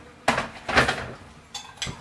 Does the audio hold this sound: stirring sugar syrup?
yes